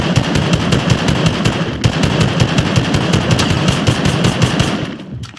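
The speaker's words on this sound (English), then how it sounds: "I want to see how you're gonna defend yourself if I'm just shooting you like this." Rapid automatic gunfire in the Fortnite video game, a loud, steady stream of close shots lasting several seconds before cutting off, with no talk over it.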